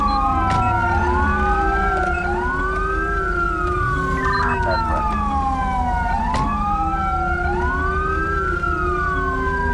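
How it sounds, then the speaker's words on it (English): A police car siren left running in the video game GTA V wails continuously in loud rising and falling sweeps over a low engine rumble, with no talk. "that's what you get, man, for leaving your siren on"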